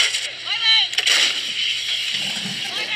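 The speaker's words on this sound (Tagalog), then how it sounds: "Ito naman po yung ating howitzer." A Philippine howitzer fires during a live-fire exercise at sea: a heavy booming blast with a rolling, echoing tail, heard amid wind and outdoor noise.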